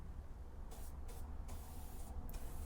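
A spray can or spray gun paints a 4-foot light-up marquee party number, with several short hissing bursts of spray over a constant low background rumble, faint and fairly close.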